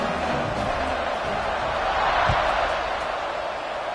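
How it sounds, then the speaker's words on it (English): A stadium crowd in the Madden football video game keeps up a steady, broad murmur after a touchdown, with a single dull thump partway through and a faint voice beneath. "this crowd is buzzing after that last score"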